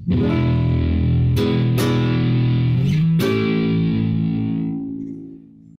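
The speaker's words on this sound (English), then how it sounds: "let me go with an actual heavier distortion" A kite guitar rings out through a heavy distortion effect, a few sustained chords struck one after another with sharp attacks, then a final chord left to hang and fade into silence.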